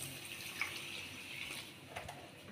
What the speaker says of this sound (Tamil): ஒரு கப் தண்ணி சேர்த்துக்கலாம்.